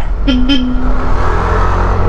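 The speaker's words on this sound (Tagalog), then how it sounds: "Daming sasakyan." Busy road traffic in the Philippines heard from a motorcycle, with a loud, close car horn giving two short toots over a constant rushing engine and road drone.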